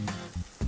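Noodles frying in a pan with eggs, sugar and chocolate, giving short bursts of close sizzling in three quick pulses with no talking.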